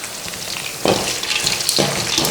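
Turmeric hits hot oil in a pan while Karnataka-style chitranna is cooked, giving a soft, steady sizzle with brief bursts of crackling and stirring.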